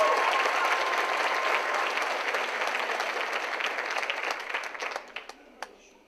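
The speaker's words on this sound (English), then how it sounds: "Please give them a round of applause." Applause for student performers at a high school choir variety show starts as a full, loud round of clapping from the audience, then thins out and fades to a few scattered claps near the end.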